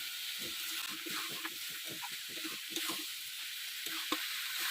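Potatoes and jackfruit sautéed with spices in a pan, a steady close sizzle and hiss broken by repeated scraping stir strokes in an uneven rhythm, with no talking.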